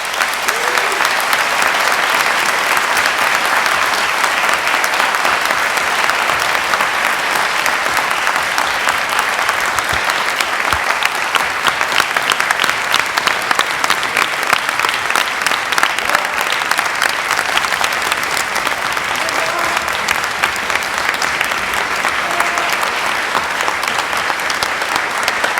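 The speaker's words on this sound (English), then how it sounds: "if we could please give them a round of applause" Sustained applause from a reception audience at a dessert event, dense and steady clapping filling the room throughout, with no break.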